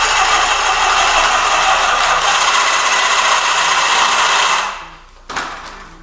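A motorcycle exhaust pipe from a Yamaha Virago XV920 café racer, clamped in a vise, being cut with a power tool: steady, loud, harsh cutting noise for over four seconds, then the tool spins down and stops, followed by a brief clank.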